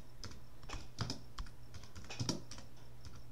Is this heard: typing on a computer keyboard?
yes